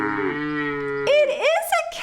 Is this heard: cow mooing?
yes